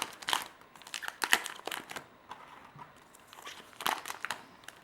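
Pokémon card booster packs being opened by hand, close crinkling and tearing of foil wrappers in several short bursts, with rustling and handling between them.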